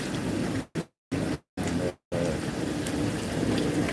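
Steady heavy rain pours outside in a thunderstorm just after pea-sized hail has stopped, a dense continuous hiss with low rumbling, cut by a few brief dropouts.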